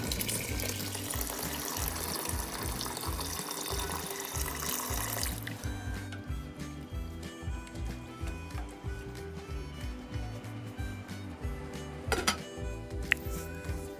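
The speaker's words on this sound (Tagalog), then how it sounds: "Tapos ibuhos nyo na po yung tubig. 1 galong tubig po yung nilagay ko dito." A gallon of water pours into a cooking pot for chicken arroz caldo, a loud steady gush for about five seconds that settles into softer sloshing and splashing.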